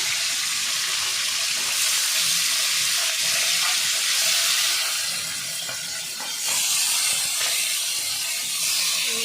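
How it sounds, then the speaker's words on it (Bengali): Chicken sizzles in hot oil in a home kitchen, a broad continuous hiss and crackle that swells and dips slightly midway, close and fairly loud with no talking. "এই যে চিকেনটাকে একটু তেলে ভেজে নিচ্ছি"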